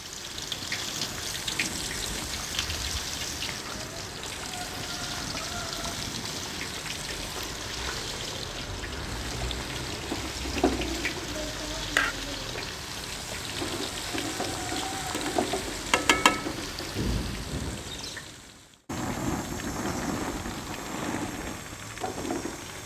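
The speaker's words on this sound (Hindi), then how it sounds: "इसे बिल्कुल ही लो फ्लेम पे फ्राई करना है ताकि चिकन हमारा अच्छी तरह फ्राई भी हो जाए" Steamed chicken frying over a low flame, giving a steady, dense crackling sizzle that runs throughout with a few louder pops and a brief dropout near the end.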